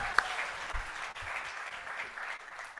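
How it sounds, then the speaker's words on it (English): An audience at a congressional panel summit applauds, a brief burst of clapping that holds steady at moderate loudness for a few seconds, with no talk over it. "how about another round of applause for that?"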